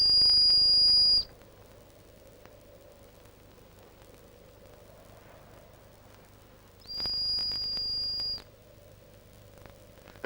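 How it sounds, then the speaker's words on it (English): Two loud, sustained high whistle blasts for a falconer's pointer dog working grouse, the first lasting about a second and the second about a second and a half, separated by a long gap of quiet outdoor background hiss. "They should work to the whistle too."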